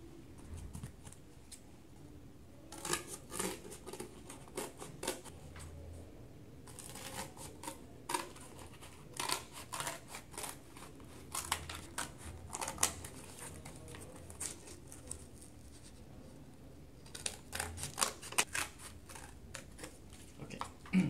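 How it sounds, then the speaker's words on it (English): Scissors cutting along a line on a paper sheet, quiet crisp snips coming in several short bursts separated by pauses, close and faint with no talking. "Step 2, you want to cut the orange line."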